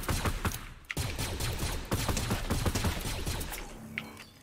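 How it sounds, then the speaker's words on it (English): Rapid bursts of Fortnite gunfire crackle through the whole stretch, repeated shots in quick clusters with short gaps, fairly close and continuous, with no talking over them. "Now who's shooting at me?"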